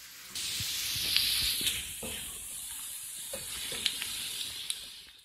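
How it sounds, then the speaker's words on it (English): Onions cooking in melted butter in a pan, a steady soft sizzle and hiss with faint occasional stirring taps, close and fairly quiet, with no talk. "if you like the smell of melted butter and onions cooking"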